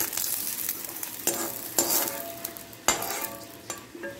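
Chopped pirandai sautés in a pan for thuvaiyal, a steady soft sizzle broken by a few sharp scrapes and clinks of a spoon stirring against the pan, close and without talk.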